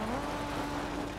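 Rally car in Colin McRae Dirt 2 slowing down with a tap of the handbrake, its engine tone sliding steadily along under continuous tyre and road noise, close and fairly loud.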